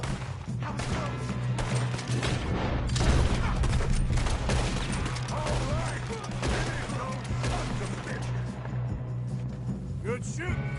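Shootout in the Western video game Red Dead Redemption 2, with dense, continuous gunfire crackling at close range and voices calling out over it.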